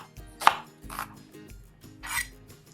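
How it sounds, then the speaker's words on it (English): A knife dicing onions into small pieces on a cutting board for meal prep, giving a few separate chopping thuds spread across a few seconds with quiet pauses between, close and moderately loud, no talking. "I'm just gonna do a small dice on these."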